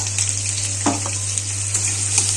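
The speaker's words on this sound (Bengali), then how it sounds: "এই পেঁয়াজটাকে আমি ভেজে নেব।" Chopped onions and green chillies fry in oil seasoned with cumin seeds, producing a continuous close hiss with a couple of brief stirring scrapes.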